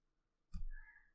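A single sharp mouse click in a quiet room, followed by a short faint whir, with no voices.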